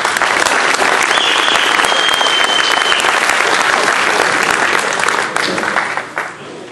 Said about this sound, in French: j'aimerais également qu'on les applaudisse très très fort